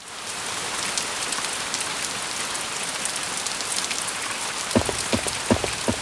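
Rainy-season rain falling steadily on a surface, a dense continuous hiss with scattered louder drops, and heavier drips near the end.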